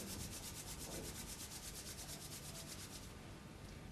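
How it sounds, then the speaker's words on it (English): Two hands rubbed together hard and fast to warm them, giving a loud, close, continuous swishing friction in a quick back-and-forth rhythm with no pauses or voices. "you rub your hand really hard so that it becomes warm"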